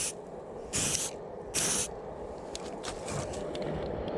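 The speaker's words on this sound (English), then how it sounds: "I'm actually going to spray the plastic covers." Two short, loud bursts of aerosol spray paint hiss onto plastic windscreen wiper arm covers, close by, separated by a brief pause, followed by faint scraping and handling noises.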